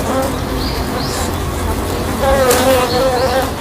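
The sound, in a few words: honeybee swarm buzzing around a wasp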